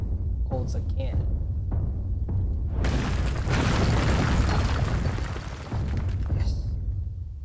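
A cannon fires in the video game Alice: Madness Returns, one heavy booming blast that swells and rumbles for several seconds among softer game sounds.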